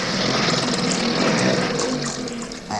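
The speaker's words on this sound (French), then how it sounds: "Ah, voilà le canot à moteur. Ben voilà pour l'essence. Mettons-le en marche." Motorboat outboard engine starting and running in an audio adventure drama, a steady broadband mechanical roar with a watery churn that holds throughout and dips slightly near the end.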